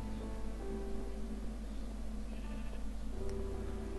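A Minecraft sheep bleats in a cave in the video game: two drawn-out, fairly faint bleats over a steady low ambient hum.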